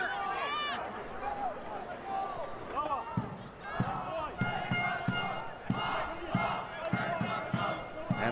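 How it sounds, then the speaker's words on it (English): Home supporters at a Heidelberg United versus Marconi Stallions Australian Championship football match roar and chant, with rhythmic thumping beats driving the noise in the second half. A commentator talks over the crowd. "the crowd as loud as they've been since the goal, urging the home team on"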